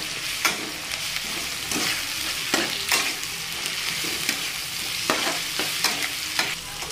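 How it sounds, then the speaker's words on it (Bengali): Ginger-garlic paste and onion fry in refined oil with a constant close sizzle, punctuated by frequent scraping and tapping strokes of a stirring spoon against the pan. "আদা রসুনের গন্ধটা চলে যাওয়া পর্যন্ত এটাকে ভেজে নিলাম ভালো করে।"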